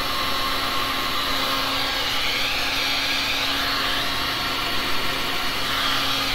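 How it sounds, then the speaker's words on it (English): A heat gun blows hot air across freshly poured resin, making a continuous, even rushing roar that stays steady throughout without pause. "So I'm just getting it enough air and heat on it just to get some of the color to go towards the edge."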